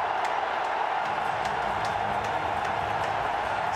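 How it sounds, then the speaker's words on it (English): A cricket stadium crowd applauds Sachin Tendulkar's 99th international century at the 2011 Cricket World Cup. The sound is a dense, steady roar of distant clapping and cheering from a large crowd. "Listen to the applause."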